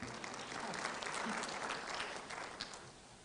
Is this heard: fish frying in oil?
no